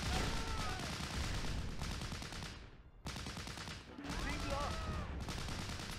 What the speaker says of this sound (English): Artillery strike, that's not what I want to happen right now.